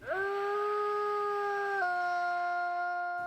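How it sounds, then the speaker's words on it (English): A wolf in the wild, caught by a trail camera, lets out a single long, steady howl that holds its pitch and then drops slightly near the end, clear and alone against quiet surroundings. "the perfect wolf call captured on camera"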